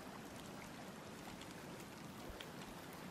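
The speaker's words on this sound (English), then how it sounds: "That water is a little loud" Flowing water in the survival video game Sons of the Forest makes a steady, loud rushing and trickling stream, continuous and even with no other sounds over it.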